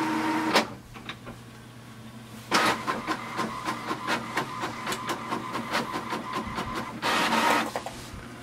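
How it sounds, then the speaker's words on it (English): An HP Envy 5075 all-in-one printer makes a copy with a whirring motor, rapid mechanical ticking as paper feeds, and louder surges of rollers at the start and end, close and steady with no talking. "So you can see it has printed"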